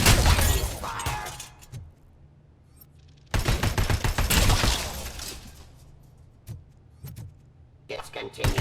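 Bursts of loud gunfire in RoboCop Rogue City, with rapid automatic volleys cutting in and out between quieter gaps and a few sharp single shots, plus clattering impacts.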